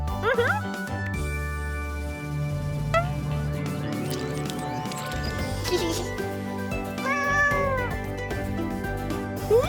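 Animated cartoon cats meow repeatedly in bright, stretched calls over background music and sound effects.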